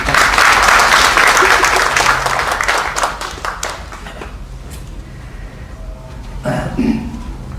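Loud applause at a church gathering welcoming a pastor to speak, dense and close at first, then thinning out and fading, with a few scattered claps and some shuffling near the end.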